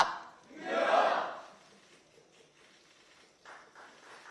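A crowd at a small-business gathering shouts a one-word slogan in unison, a single loud burst that quickly fades, followed by faint scattered murmurs and a few softer outbursts.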